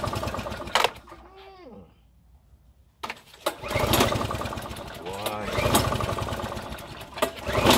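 Petrol lawn mower running low on fuel, its engine cranking and sputtering in rough bursts as it struggles to start, close and loud, with a voice heard talking between the attempts.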